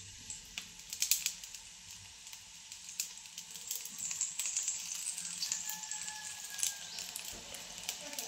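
Sev made from besan dough pressed into hot oil in a kadhai, giving a steady, close frying sizzle with crackling bursts and hiss that runs throughout, with no talking.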